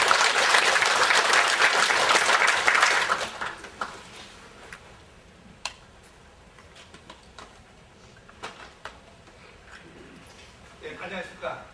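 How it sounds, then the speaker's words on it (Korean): An audience at a brand presentation and discussion session claps in a loud burst that fades out after about four seconds. Scattered clicks and a quiet voice follow, and some clapping picks up again at the end. "박수 한번 더 쳐주세요."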